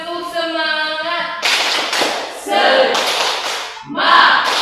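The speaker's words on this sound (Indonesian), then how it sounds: "Tepuk semangat." A classroom spirit clap called out by a teacher, a few sharp rhythmic group claps and thumps between a voice and chanting.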